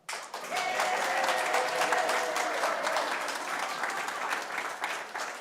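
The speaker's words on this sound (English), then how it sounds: "Applause, applause." Audience applause at a Unitarian Universalist Sunday service, a sustained burst of clapping from a moderate crowd that starts abruptly and holds steady for several seconds, close and alone.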